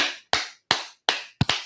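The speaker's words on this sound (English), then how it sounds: "Slow clap, man." Slow clap: five sharp, close hand claps at a steady, deliberate pace, each ringing briefly before the next, with the last two struck in quick succession.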